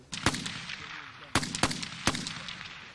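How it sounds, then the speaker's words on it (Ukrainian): Gunfire at a firing position during urban ambush shooting training, several sharp single shots spaced irregularly with echoing tails, moderately close over faint background sound. "британські інструктори вчать українських бійців влучно стріляти із засідки у міських умовах"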